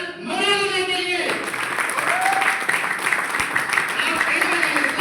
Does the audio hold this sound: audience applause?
yes